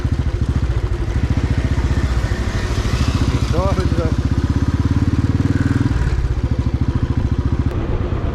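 A motorcycle ridden along a highway gives a steady, close, rhythmic engine throb with rattly clatter and wind roar, plus a brief voice partway through.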